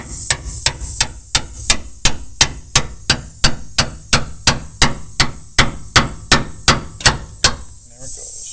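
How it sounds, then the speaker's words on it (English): A hammer strikes a chisel on the rear shackle frame mount of a 1991 Ford F150, about twenty loud, sharp metallic blows in a steady, even rhythm, followed by a brief rattle of loosened metal. "I'm going to hit it with the hammer."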